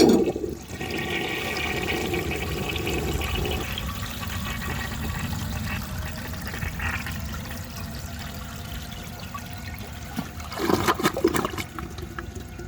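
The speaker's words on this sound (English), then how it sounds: "I'll give it another flush and see if it does any better." A 1930 Eljer Sanus toilet, tested for clogging, flushes with a loud rush of water that settles into a steady draining wash, then ends with a brief gurgling surge.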